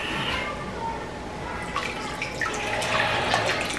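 A basin fills with running tap water for an apple cider vinegar rinse of locs, a continuous splashing hiss that grows slightly louder and busier, with a voice talking over it.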